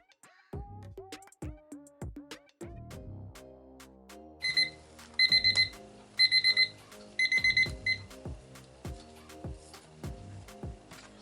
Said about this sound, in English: So timer is set for 5 minutes